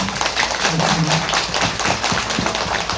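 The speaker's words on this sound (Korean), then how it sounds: "큰 박수 부탁드립니다" Audience applause following a lecture on housing redevelopment in Haeundae, Busan, a dense, steady wash of many hands clapping that fills the whole stretch with no pause.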